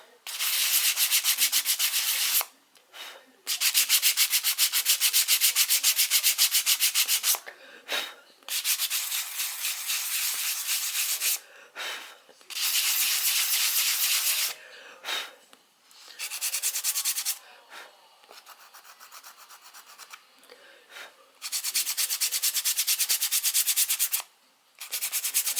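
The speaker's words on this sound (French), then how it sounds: "on prend ma brosse à poncer et je fignole un max" A sanding brush rubs over self-hardening clay in long, steady passes of dry, hissing abrasion, broken by short pauses, close and fairly loud with no talking.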